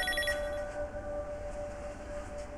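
A telephone rings faintly in a quiet room in a Ukrainian medical drama, with brief electronic chirps at the start over a thin, steady tone.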